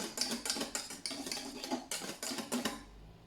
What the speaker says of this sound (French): Je verse ma crème anglaise refroidie sur ma crème montée et je vais mélanger